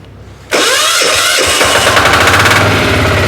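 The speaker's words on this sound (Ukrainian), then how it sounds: "ви почуєте, що таке дизельний мотоблок Вейма" A Motor Sich diesel walk-behind tractor engine starts abruptly and runs loud and steady nearby, with a rapid, chugging, knocking rhythm and no talking.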